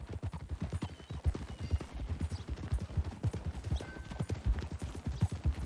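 Horse hooves clip-clop in Red Dead Redemption 2 in a steady, even rhythm at close range.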